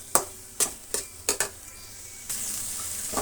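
Onions frying in a pan for a masala omelette: five sharp scrapes of a spatula stirring in quick succession, then a steady, moderately loud sizzle with no voices.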